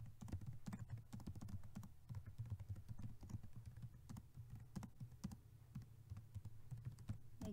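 Steady typing on a computer keyboard during a computer class lesson, a dense run of close, quick key clicks with no pauses for the whole stretch.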